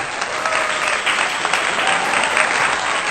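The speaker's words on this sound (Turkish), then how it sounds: "Alkışlarla" Schoolchildren and a host applaud as a new guest arrives for an interview, steady, moderately loud clapping from a small group that holds evenly throughout.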